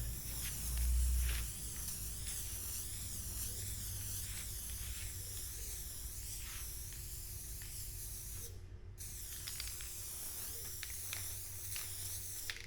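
Aerosol spray adhesive coating a car headliner, a close steady hiss of spray in long continuous passes with one brief pause, no talk.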